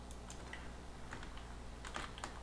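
Quiet computer keyboard typing in short scattered bursts of key clicks while entering code, soft and close with a low steady hum underneath and no speech.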